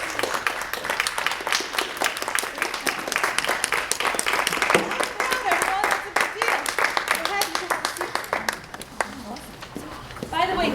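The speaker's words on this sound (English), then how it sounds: "These students received the 4th grade level red belt. Please give them a round of applause." A student string recital audience applauds, many hands clapping in a dense, steady burst that carries on loudly from start to finish.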